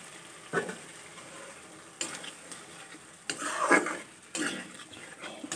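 Ginger and tomato paste frying in a pan, stirred with a utensil in several short bursts of scraping and clinking over a soft, low sizzle, close and fairly quiet, no talk.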